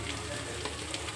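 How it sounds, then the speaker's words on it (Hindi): Chopped onions fry in a pan with crushed chili, giving a continuous soft sizzle and crackle, close and fairly quiet, with no voice over it. "अब प्याज को लाल करके हम भून लेते हैं।"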